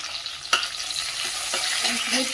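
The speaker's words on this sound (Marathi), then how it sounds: "2 चमचे तेल टाकून घेऊया। त्यामध्ये टाकूया कढीपत्ता, आलं आणि लसूण ठेचलेला, 2 तमालपत्र" Curry leaves, ginger, crushed garlic and bay leaves sizzle in a couple of spoonfuls of hot oil, a bright continuous hiss with a sharp clink from the pan early on.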